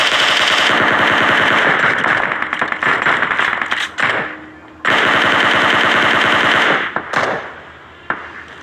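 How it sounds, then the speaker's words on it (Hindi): Loud bursts of rapid automatic gunfire in the video game PUBG, several long sustained volleys broken by brief pauses and a few single sharp shots. "मैं जल्दी जल्दी गोली चलाता हूँ"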